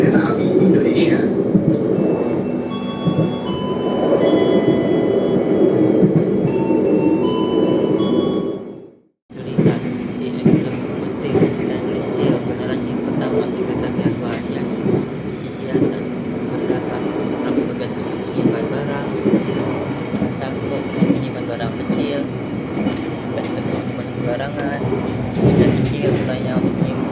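Indonesian passenger train travelling from Surabaya Pasarturi toward Jakarta, a loud, close, continuous rumble of wheels and carriage with a brief dropout midway, while announcements and speech run over it.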